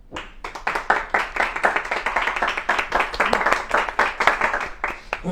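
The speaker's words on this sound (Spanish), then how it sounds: "démosles la bienvenida con un fuerte aplauso." An audience applauds with steady, dense clapping that continues throughout without pause.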